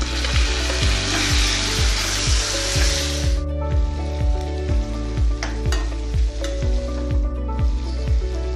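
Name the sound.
sautéing chopped tomato and green chilies in oil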